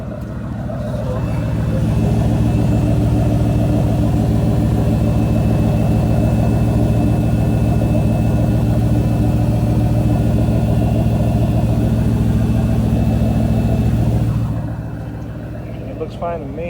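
A car engine idles steadily after a test drive following an 8.8 differential rebuild, a loud constant low rumble that holds evenly and then drops off near the end.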